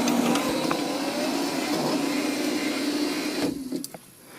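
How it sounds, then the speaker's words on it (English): Weak electric sunroof motor on a Porsche 928 straining in a steady, muffled whine for a few seconds, then cutting off with a couple of clicks, close by. "Guess we can run the motor and see if it'll kick the back up"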